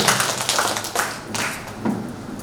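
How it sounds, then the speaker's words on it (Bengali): An audience claps at a training seminar, a loud, dense burst of hand claps close by with no talk over it. "সবাই কামিয়ে ওনার জন্য তালি বাজান, জোরদার জবরদস্ত তালি বাজানো"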